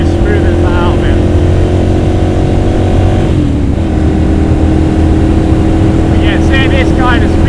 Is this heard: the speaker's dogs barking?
no